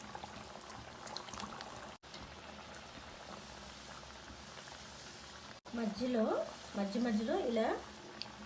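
Sorakaya garelu, bottle gourd fritters, fry in hot oil with a soft continuous sizzle that swells louder near the end, under someone speaking Telugu.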